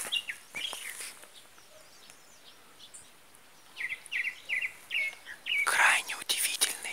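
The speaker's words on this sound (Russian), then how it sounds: "Крайне удивительные, приятные звуки пения птиц." Birds sing and chirp near Baranovsky volcano, with several short, bright phrases ringing out in a quiet outdoor setting, growing busier and louder toward the end.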